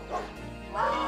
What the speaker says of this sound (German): Lachen von Menschen und Bellen von Hunden äh,